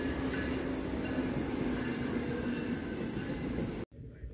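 A train rolls past on a mainline railroad, a loud, steady rumble of wheels on rail with a thin squealing tone running through it, close by and continuous until it cuts off abruptly near the end.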